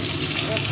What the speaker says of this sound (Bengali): মাছটা ভাজা হয়ে গেছে লাল লাল করে